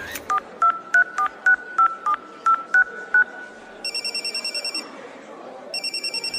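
A phone number being keyed in with about a dozen quick beeping tones, followed by two spells of electronic ringing pulses on the line as the call goes unanswered, close and clear with no talking.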